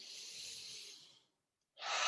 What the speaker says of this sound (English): So take a nice deep breath in from your diaphragm and breathe out.